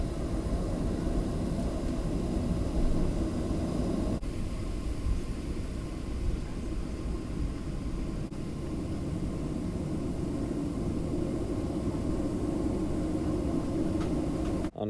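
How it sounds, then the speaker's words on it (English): Steady, dense roar of a Southwest Boeing 737-700 on its takeoff from Milwaukee, heard from inside the cabin as a continuous broadband rumble and hiss that holds an even level throughout, with no talking. "and enjoy our Milwaukee takeoff."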